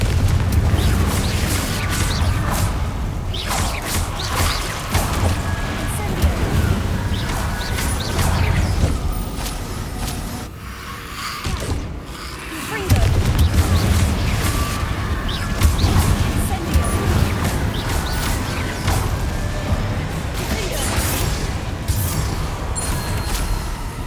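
Repeated fiery blasts from the Confringo spell ring out amid a hectic Hogwarts Legacy battle against Inferi, loud bursts and crashes piling up over a constant rumbling game soundscape with a short lull midway.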